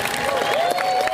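A graduation ceremony audience at Voorhees High School, 2021, breaks into applause and cheering, a steady crowd roar of clapping with a voice faintly over it for just over a second.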